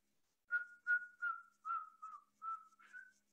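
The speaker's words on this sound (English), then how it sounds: "we're going to follow his whistle" A person whistles seven short, clear notes in an even rhythm during a follow-the-leader game, heard alone and fairly faint with no talking.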